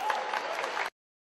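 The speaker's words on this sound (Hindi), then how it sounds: "please you know applause" An audience at a dance event claps in a short, dense burst of applause that cuts off abruptly.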